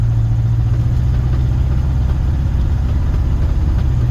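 A Jeep J10 pickup pulling away in first gear, its engine giving a steady, loud low rumble with a strong droning hum and no talk over it.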